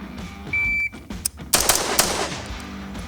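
A new shooter fires a handgun at the range. A shot timer beeps first, then a few sharp gunshots crack close by, each followed by a brief echoing decay.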